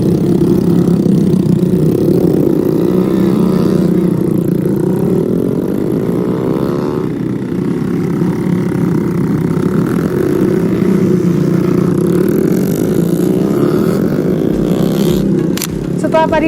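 Motorcycles carrying harvested rice grain across muddy paddy fields, a continuous close engine drone with rising and falling revs throughout, under steady talk.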